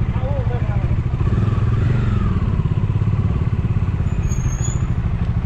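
A motorcycle engine runs close by at a steady, loud idle with a rattling clatter and a few thumps, continuous throughout.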